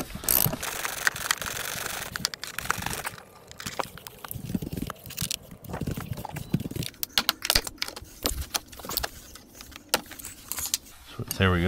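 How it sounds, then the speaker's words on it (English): Ratchet loosening a seatbelt bolt inside a 2024 Kia EV6, a series of clicky metallic ratcheting bursts mixed with rattling and handling noises, close up, with a voice talking at times. "And now to continue hiding it behind, to take the seatbelt bolt off."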